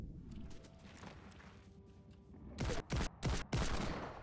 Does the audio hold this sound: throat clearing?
no